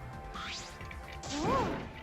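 Electro hammer smashing down on a control panel in the video game NDRV3, with a whooshing swing followed by a heavy crashing impact and ringing game sound effects, loud and close with no talk.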